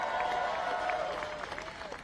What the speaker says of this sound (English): Let me also give a big round of applause and welcome to our new White House interns.